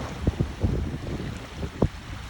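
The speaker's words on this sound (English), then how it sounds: "look how windy it is" Strong wind buffets the microphone at a beach where kite surfers are out, a continuous low rumble with sharper gusts thumping in now and then.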